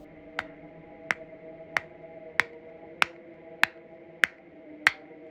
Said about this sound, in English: the slight patter of a person's slow, measured claps, muffled by the bad reception of the call